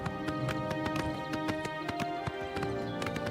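A horse's hooves clip-clop in the video game Oblivion Remastered, the default old nag horse trotting in a steady, evenly spaced rhythm of sharp, close knocks over a continuous game music background.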